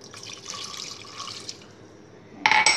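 Water, about one and a half cups, splashes and trickles steadily into a cooking pot for a couple of seconds, close by, followed by a brief metallic clink.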